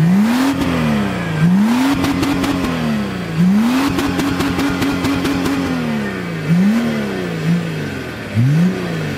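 A car with a custom-made full exhaust system revs again and again, its loud, close engine note climbing and falling in repeated surges, with no talking.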